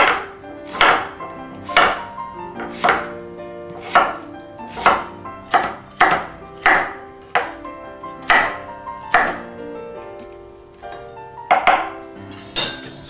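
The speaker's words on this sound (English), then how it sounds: "we are going to get the onion and we want to chop it in little pieces" An onion is chopped into small pieces with a knife on a cutting board, about a dozen loud, evenly spaced sharp thuds close by, with no talking.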